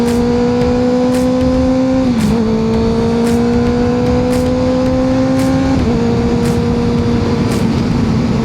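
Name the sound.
Kawasaki motorcycle engine revving while riding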